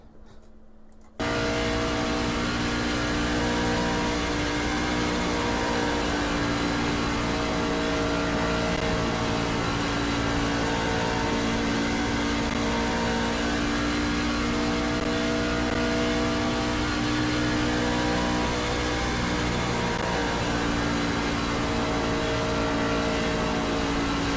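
A race truck engine on a qualifying lap at Charlotte in iRacing, a loud sustained drone that rises and falls with throttle through the whole run, heard alone after a brief quiet start.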